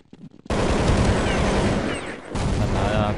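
Rapid bursts of Counter-Strike 1.6 gunfire blaring loud and continuous after a short quiet opening, with a brief dip midway before the shooting resumes.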